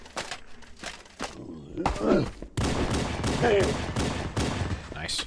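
Plasma pistol fire in Halo: Combat Evolved comes as bursts of rapid energy shots mixed with game effects and impacts, fairly loud, with brief talk over parts of it.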